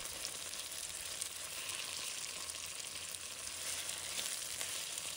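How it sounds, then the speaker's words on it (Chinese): Tofu pieces pan-frying in hot oil until golden on all sides, giving a steady, close, continuous sizzle and crackle that holds evenly throughout with no voices. "按照这个方法煎出来的豆腐形状完整，色泽漂亮，四面都煎至金黄诱人的模样"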